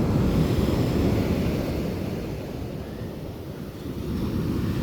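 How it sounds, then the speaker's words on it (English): Large ocean waves, roughly 10 to 14 feet, crashing at Wright's Beach, California, a continuous loud roaring surf with wind buffeting the microphone throughout, no voices. "These are probably 10, 12, 14 foot waves."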